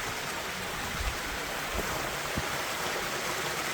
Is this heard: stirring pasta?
no